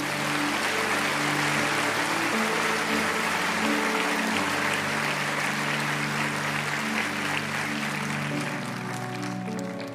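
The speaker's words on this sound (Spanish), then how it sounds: "Dale un aplauso a Jesús." A church congregation applauds loudly and continuously, a dense wash of many hands clapping with a sustained musical drone beneath, holding steady before easing slightly toward the end.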